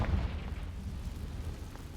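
A Confringo spell explosion in the Hogwarts Legacy video game, a low, rumbling boom that is strongest at the start and then fades into a dull sustained roar.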